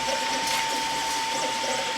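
A 3D printer laying down a part, a steady close mechanical whir with a constant tonal hum and faint rhythmic stepper chatter, alone without speech.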